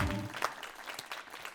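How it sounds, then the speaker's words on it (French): A television studio audience claps for a guest on a talk show set, a short burst of faint, somewhat distant applause with scattered individual claps. "un tonnerre d'applaudissements"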